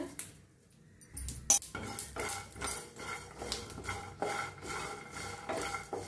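Whole spices, dry coconut, onion and peanuts dry-roasting in a pan, with a spatula scraping and knocking against the metal in irregular bursts, close and moderately loud, no talking.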